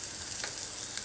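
Ginger, garlic, sprouts, sweet corn, peas, curry leaves, green chilli paste and pepper frying in a pan for jowar stock soup: a steady close sizzle with a faint stirring scrape.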